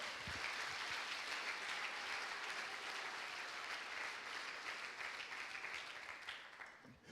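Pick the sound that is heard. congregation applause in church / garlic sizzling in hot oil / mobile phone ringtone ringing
congregation applause in church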